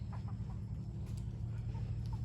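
Chickens, a rooster and two hens, cluck softly as they forage on a village road; the calls are faint and distant over a low, steady rural background.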